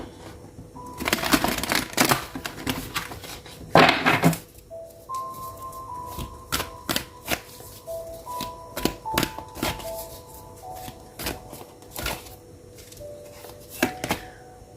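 Tarot cards being shuffled and handled, with scattered crisp slaps and riffles close by, alongside quiet tonal chimes in the background.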